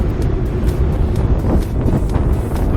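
A headwind buffets the microphone while cycle touring in Western Australia's Golden Outback, producing a continuous low rumbling wind noise with gusty fluctuations.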